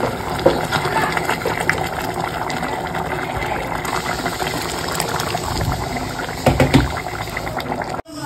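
Water poured into a pot of frying pulao makes a steady close gushing and bubbling that runs throughout. A few louder splashy surges come near the end.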